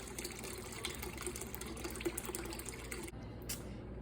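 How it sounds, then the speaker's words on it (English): Tecate beer is poured in a steady, close splashing stream into a pot of grape juice for jelly, running continuously for about three seconds before cutting off, with no talk. "we're just gonna add a splash of Tecate into it for good measure"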